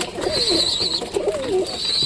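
Pigeon chicks calling for food, close and loud, a pair of drawn-out wavering coos over a thin high whistling note, with no talking.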